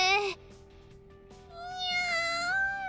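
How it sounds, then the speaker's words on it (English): A cat gives a sharp meow followed by a longer, rising drawn-out meow, close and fairly loud in a quiet room. "Aww, the kitty."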